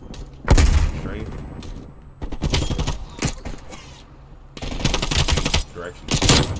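Call of Duty gunfight gunfire: loud bursts of automatic fire come in several clusters with thumps between, and a voice is heard faintly in between.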